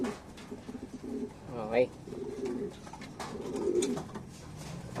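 Racing pigeons cooing nearby in soft throaty bursts while someone speaks briefly over them.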